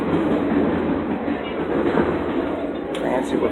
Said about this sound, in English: Got a crowded train, but everyone's wearing masks.